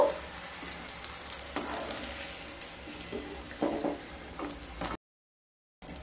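Steady sizzling of eggplant frying in hot oil, close and continuous with occasional stirring clinks, then a sudden cut to silence near the end.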